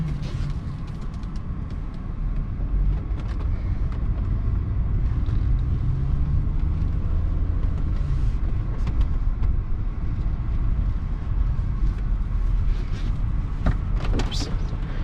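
A 2006 Chrysler Crossfire Limited driving, a continuous low engine and road rumble from inside the cabin with occasional clicks and taps, steady throughout.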